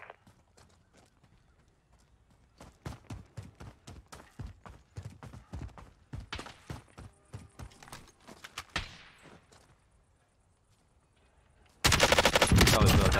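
Gunfire in Warzone: scattered single shots and short bursts cracking at middle distance with uneven rhythm, fading into a quiet stretch before a sudden loud, sustained burst of noise at the end.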